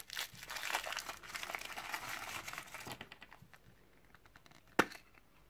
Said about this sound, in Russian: Открываем седьмое шоколадное яйцо.